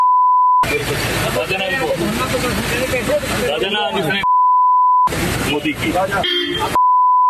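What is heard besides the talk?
censorship beep covering abusive words in news report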